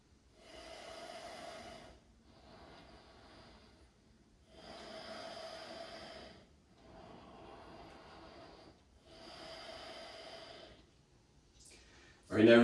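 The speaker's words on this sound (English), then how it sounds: "Switch deep breathing on." Deep, slow breathing during a yoga session, five long airy breaths in a steady rhythm, close and fairly loud, with a sharper noise at the very end.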